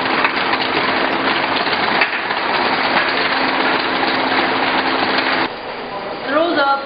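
The valve inserting section of a 2800B automatic aerosol filling line runs at close range with a steady mechanical whir and clatter, then grows quieter near the end while a voice speaks over it.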